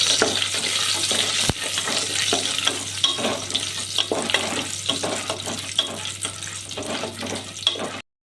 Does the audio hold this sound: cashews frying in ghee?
yes